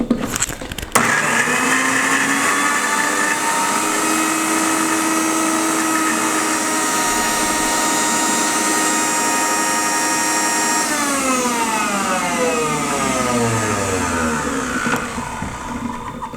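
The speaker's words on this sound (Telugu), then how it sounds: "మళ్ళీ ఒకసారి గ్రైండ్ చేసుకున్నాము" A mixer grinder blends peanuts and mint into a sandwich filling with a loud, steady, high whirring motor roar that runs throughout, then winds down and drops in pitch near the end.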